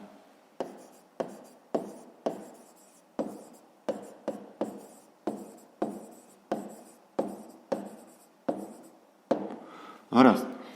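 A pen scratches across a notebook page while a fifth-grade math exercise is worked out: a steady series of short, close, dry strokes in a regular rhythm, with a slightly heavier scrape at the end.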